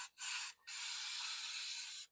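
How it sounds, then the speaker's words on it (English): Two hissing bursts from an aerosol can of Fluid Film lubricant sprayed under a chain, a short spurt followed by a longer steady spray, close and fairly quiet. "we are going to spray a little bit of fluid film into this area under this chain"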